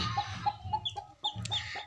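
A hen clucks in a run of short, evenly spaced calls close by, with a few sharper higher notes near the end and no talking.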